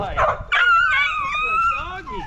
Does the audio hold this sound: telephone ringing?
no